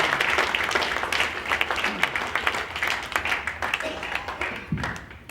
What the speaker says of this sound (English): Put your hands together for PJ.